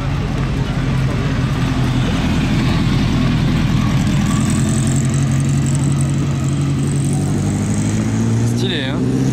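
Ferrari 512 race car passing in a parade, its engine a loud continuous low roar with a rising whine near the end, while people talk over it.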